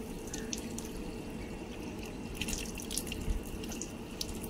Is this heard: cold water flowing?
yes